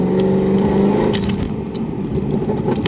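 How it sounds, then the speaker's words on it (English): A Mercedes W204 C63 AMG V8 engine blips and revs on a fourth-to-third downshift while driving on winter tires in cold weather, a loud throaty surge with crackles, close and without talk. "fourth to third, that downshift. Nasty."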